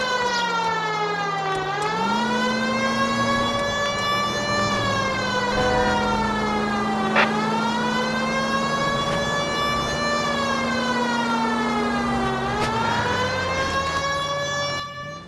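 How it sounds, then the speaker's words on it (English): A loud police car siren in the video game L.A. Noire wails continuously, rising and falling in slow sweeps, close and steady throughout with no voices. "Against the rules to drive like this without a siren."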